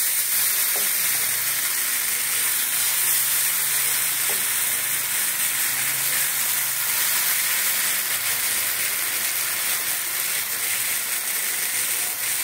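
Refined oil and mung bean batter fry in a heated pan for thin chakli pitha, giving a loud, continuous, steady sizzling hiss throughout.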